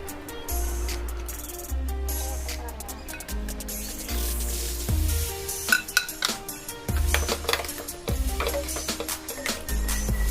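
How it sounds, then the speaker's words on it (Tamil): Chicken being stirred in a cooking pan produces metallic clanks and scrapes of a utensil against the pan, irregular and close, over an on-and-off low hum. "நல்லா கிளறி விடுங்க."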